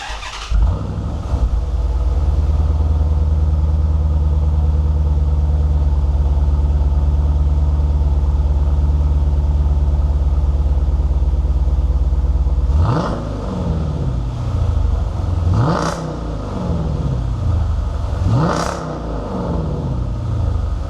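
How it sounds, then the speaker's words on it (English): A Dodge Charger with a 5.7 V8 and modified exhaust idles with a deep, steady rumble for a long stretch, then revs sharply three times, each blip rising and falling back to idle. "let me go ahead and get you a couple exhaust clips real quick"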